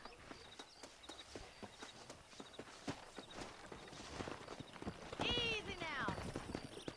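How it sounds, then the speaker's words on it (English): Horse hooves clip-clopping at a walk on a ranch in Red Dead Redemption, with a steady run of distinct hoof strikes, a horse whinnying near the end, and speech-like sounds mixed in. "That ranch hand said there's a pack of wild horses nearby"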